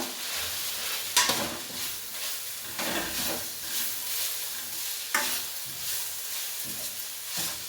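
Finely chopped tomatoes hit a hot pan and fry with a hissing sizzle, while repeated spoon strokes scrape and knock against the pan in uneven bursts, close and fairly loud, with no speech.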